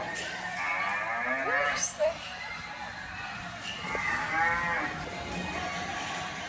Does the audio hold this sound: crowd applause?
no